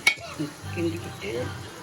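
Biryani masala with yogurt stirred in a pot, a soft sizzle with scraping strokes of a spoon, close and moderately quiet, no voices.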